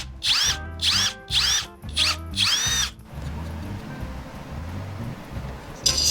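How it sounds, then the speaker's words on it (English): A power drill bores into wood in several short whining bursts, then falls quiet to a faint room hum with a brief clatter at the end. "I can go ahead and drill just a little bit, and hopefully it won't split the wood"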